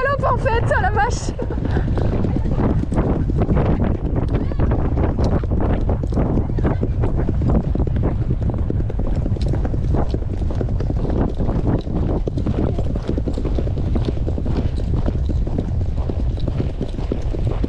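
Rapid hoofbeats of galloping horses pound continuously and loudly, with wind buffeting the microphone and people talking over them.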